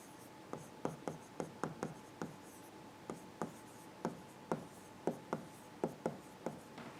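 Chalk or marker strokes on a classroom board during a Java programming lecture, a steady series of sharp, close scratching taps spaced unevenly over several seconds, with no talking.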